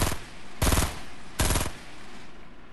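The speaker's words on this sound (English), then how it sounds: "Shoot at him. Keep shooting." Loud automatic gunfire in a Fortnite-style video game, with two sustained bursts of rapid shots standing out above a steady background of game noise.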